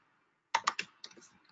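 Code is typed on a computer keyboard in a short quick burst: three close, crisp key clicks followed by a few softer taps, nearby and alone with no talking.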